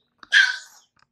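A person gives a single sharp sneeze, close and loud. A quick intake comes just before a bright burst that fades within half a second, then silence.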